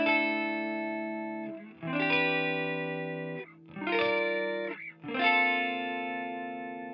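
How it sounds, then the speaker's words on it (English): A clean-toned electric guitar through a TC Electronic Flashback Mini delay pedal, four sustained chords rung out in turn, each followed by soft trailing repeats, played alone with no talking. "I've got the TC Electronic Flashback Mini delay. Here's what that sounds like with a clean tone right now."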